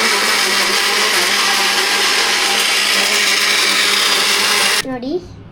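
A mixer grinder whirs loud and steady while grinding batter for Mangalore buns, then cuts off and spins down near the end.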